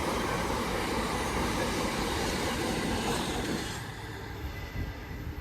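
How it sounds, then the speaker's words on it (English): A freight train rolls through a West Coast Main Line station at Lichfield Trent Valley, its loud, steady wheel rumble and rail noise filling the air before easing slightly as the wagons pass close by. "as this freight passes"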